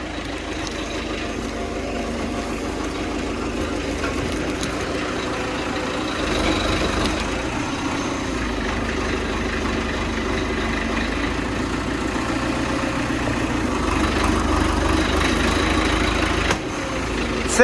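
A tractor's diesel engine with a front loader idles and rumbles steadily nearby, its low drone swelling slightly midway and holding on without pause.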